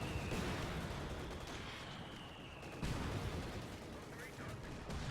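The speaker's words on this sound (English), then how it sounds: "Has built another mortar right behind the house, and maybe a bit too close, so it may hit the house" Mortar fire in the wartime strategy game Company of Heroes 2, a mortar set up right behind a house in a match, with dense booming shots and battlefield noise layered throughout under a steady wash of game sound.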